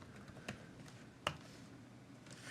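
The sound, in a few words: typing on a computer keyboard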